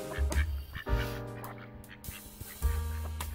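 Several ducks quack loudly and close by in a village yard at feeding time, repeated harsh calls in bursts over steady background noise.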